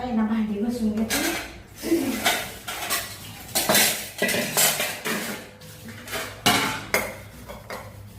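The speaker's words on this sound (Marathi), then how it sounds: "चला आता आहे ना भांडी घासून घेते." Dishes being scrubbed and washed: steel utensils clatter and clank in irregular bursts close by, with occasional scraping between the knocks, and a voice is heard under some of the clatter.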